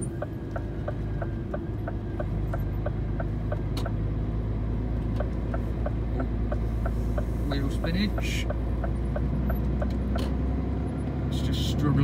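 A heavily loaded UK delivery truck idles and labours in traffic on a wet road, a deep steady engine drone with a rhythmic ticking indicator throughout and brief hiss near the end.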